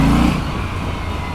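An Aprilia RS 457 motorcycle in rain mode pulls away under throttle, its engine note loud and close at the start and then settling into a steady running drone with road and wind noise.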